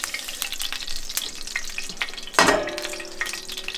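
Dongpo pork ingredients frying in a pan, a crackling sizzle with scraping and stirring, then a sudden louder burst and a metallic ring of the pan partway through, no talking.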